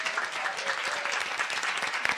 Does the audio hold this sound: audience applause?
yes